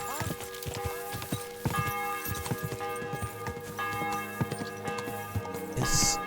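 Horse hooves clop at a walking pace in Kingdom Come Deliverance 2 as a horse is ridden into a castle, with steady irregular thuds mixed into dense game ambience and music.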